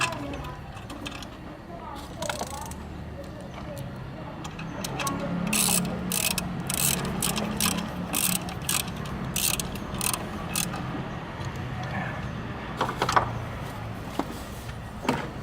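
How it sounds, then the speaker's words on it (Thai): Ratcheting clicks from a wrench tightening a nut while fitting an alarm to a Honda CBR150 motorcycle, a run of sharp mechanical ticks over a steady background hum, fairly close. "ยึดน็อตตรงนี้นะครับ ยึดน็อตเข้าไป"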